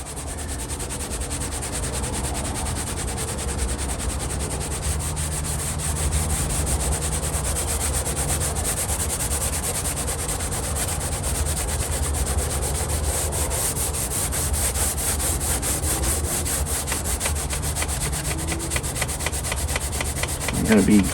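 Double cotton swabs rub glue off a Magnepan MGI speaker panel, a continuous close scratchy scrubbing with rapid back-and-forth strokes and no talk.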